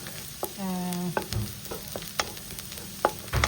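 Chicken pieces fry in a pan with a steady close sizzle, broken by sharp clinks and stirring knocks, with no voices.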